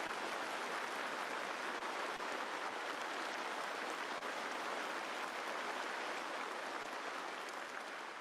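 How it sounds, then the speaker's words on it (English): An audience claps at a Chinese Communist Party meeting attended by Politburo Standing Committee members, producing an even, dense wash of applause that runs steadily for several seconds without any talk. "then cuts to the audience clapping"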